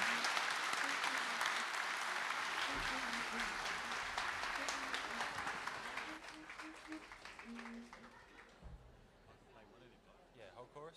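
An audience at a live show breaks into a big round of applause, loud at first and slowly thinning out, with voices speaking over it.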